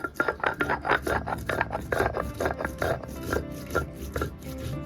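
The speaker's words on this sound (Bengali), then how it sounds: "এবার জল দিয়ে জিরেটাকে প্রথমে আগে বেটে নিই" Cumin seeds being ground with water on a stone slab, a steady, loud rhythmic rubbing and scraping of the grinding stone, close up and continuous with no voices.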